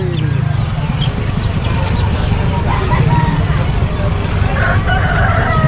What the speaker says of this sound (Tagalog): Daming manok mga boss oh.